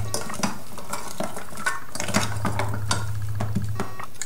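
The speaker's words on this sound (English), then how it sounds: "vanilla extract, teensy weensy, and you can start mixing it up." Fruit compote ingredients with cinnamon and vanilla extract being stirred in a pot, a steady run of spoon scrapes and clinks against the metal with a low hum beneath, close and moderately loud, no talking.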